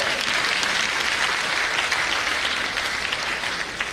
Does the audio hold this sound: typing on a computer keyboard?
no